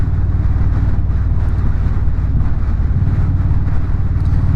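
Motorcycle exhaust droning steadily while riding, a continuous loud low rumble with wind buffeting the microphone throughout and no speech.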